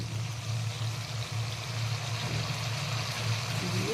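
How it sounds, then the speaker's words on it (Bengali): Water pours steadily into a pan of fried spices for a Bengali curry, a continuous close splashing stream with a low hiss and faint gurgle, running without pause under no talk. "এবার জল দিয়ে দেবো।"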